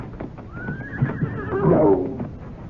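In a radio drama, a horse named in the scene as Stargazer gives a loud rising then falling whinny mid-frame, over a muffled scuffling background of clattering effects.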